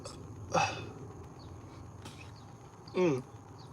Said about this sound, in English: Oh, here's the burp.